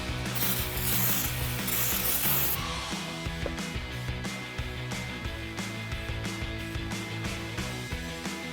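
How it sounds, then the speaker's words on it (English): A hand ratchet snugs up a bolt on a 2019-2025 Chevrolet Silverado 1500 brake rotor, fast repeating metallic clicks close up, preceded by a brief spray hiss at the start, with no talk. "I'm just going to throw my ratchet on there to snug that up the rest of the way."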